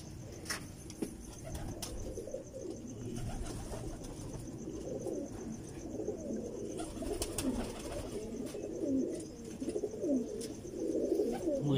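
Tubelight pigeons coo in soft, repeated low throaty rolls, close and moderately quiet, layered over one another with occasional faint chirps and rustles.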